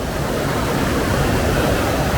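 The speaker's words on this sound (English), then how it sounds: "The sound of that water." Water rushes loudly and continuously over a turning water wheel on its pivot in old machinery, a dense, steady roar with no voices.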